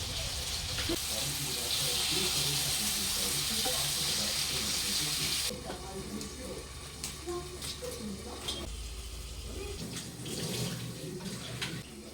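Tap water runs steadily while a pot is washed, a loud splashing hiss that cuts off about halfway through, leaving quieter kitchen clatter and a voice speaking.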